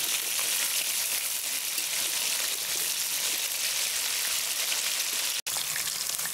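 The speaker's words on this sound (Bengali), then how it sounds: "এখন আলুগুলো ভাজছি" Potatoes frying in oil for a home-cooked chicken masala: steady, dense sizzling hiss, close and even throughout, with one brief cut near the end.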